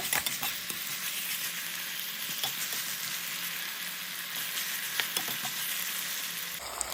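Onion, tomato, beans and carrot sizzle in oil for sabakki uppittu with a constant, close frying hiss and a few soft stirring clicks, with no voices.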